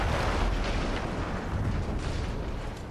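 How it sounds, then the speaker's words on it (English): A sustained rumbling roar of a C4 explosion destroying artillery guns in the video game Battlefield 1, a dense, noisy blast that fades slowly over a few seconds, with no voices. "we got to blow up this artillery guns. I've already got C4 playing on the ground."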